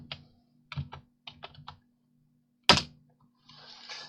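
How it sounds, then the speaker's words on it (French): Keys on a computer keyboard are pressed during SketchUp modelling work, giving several soft, close taps and then one sharper, louder click, followed by a faint rustle in an otherwise quiet room. "J'enfonce la lettre G de mon clavier pour ouvrir la boîte dialogue et créer mon montant."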